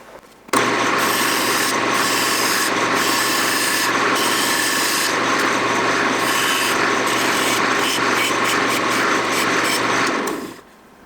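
A tool rasps steadily against the outside of a bowl made from scrap wood cut-off corners, a loud, continuous abrasive rubbing that runs for about ten seconds before stopping.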